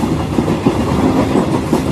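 A moving train used as a sound effect in an audio horror story, loud close rumble with rhythmic clickety-clack of wheels on rails, continuous and without talk.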